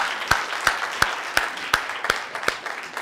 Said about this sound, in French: on applaudit déjà